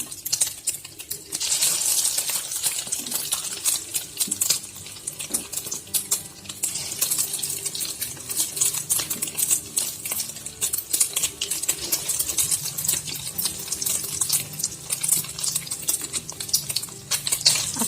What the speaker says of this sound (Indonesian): Nih perkedel ini celup ke sini, kita goreng